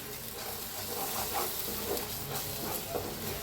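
Turmeric and red chilli powder roasting in a pan for egg masala, a soft continuous sizzle and hiss with faint stirring scrapes, close and fairly quiet, with no talking.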